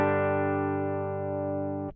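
A Les Paul electric guitar on its bridge pickup, played straight DI with no amp or cabinet, rings out as one clean sustained chord that decays slowly and then cuts off, close and clear.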